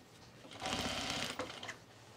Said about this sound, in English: just give myself a little guide for sewing this in a straight line